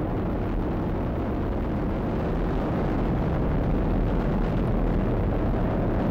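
SpaceX rocket engines roar through the CRS-18 launch to the International Space Station, a steady, loud, broadband rumble that holds without a break the whole time, with no voices over it.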